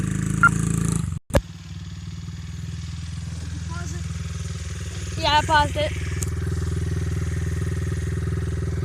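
A dirt bike engine idles steadily with a low, rumbling drone beside a nearby rider, broken briefly by a sharp clack and a short rise in revs, while people talk over it.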